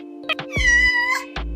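A cat gives a single drawn-out, close meow with a wavering pitch, framed by short clicks and bumps before and after.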